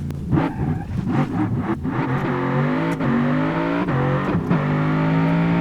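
A Ford Mustang in BeamNG.drive launches from a standstill, its engine revving hard and climbing through several gear shifts in a steady, loud, close roar with no talking.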